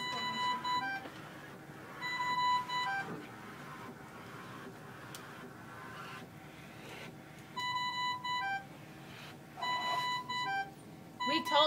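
Dräger EvitaXL ventilator alarm sounding in repeated bursts of stacked electronic beeps, around 1 to 3 seconds, 7.5 to 9 seconds and 9.5 to 11.5 seconds, over steady machine hum with quiet talk between.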